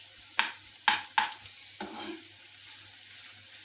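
Onions fry in a pan for chicken bread rolls, several sharp scrapes of stirring cutting through a soft, steady sizzle that continues on its own afterward.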